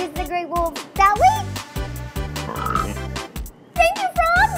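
Cartoon frogs in an animated children's show croak in a string of bright, bouncy calls. Lively background music runs underneath throughout.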